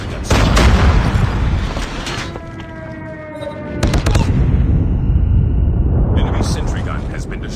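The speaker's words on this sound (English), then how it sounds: "Enemy sentry gun has been destroyed." An enemy sentry gun is destroyed in Call of Duty: Mobile on Android, heard as loud booming blasts and crackling bursts of battle noise while a voice speaks over part of it.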